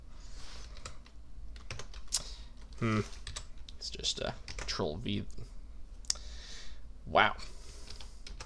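Quick, uneven bursts of computer keyboard typing and key clicks, close and fairly quiet, with a person speaking and exclaiming in between the keystrokes.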